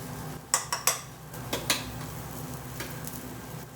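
Mushroom pilau rice ingredients stirred in hot oil in a pan, with a faint sizzle beneath scattered close clinks and scrapes of a spoon against the metal.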